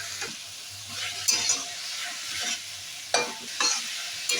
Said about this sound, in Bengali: নুন চিনি দেওয়ার পরে আরো মিনিট দিয়ে ভালো করে মিশিয়ে নিচ্ছি।